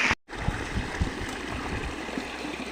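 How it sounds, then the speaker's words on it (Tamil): Irrigation water runs through a channel in a paddy field where a pipe is being set for fish trapping, a steady close trickle and gurgle heard alone, broken by a brief dropout near the start. "இப்போ இந்த நெல்லிக்கொல்லி வழியாக தண்ணி வருது."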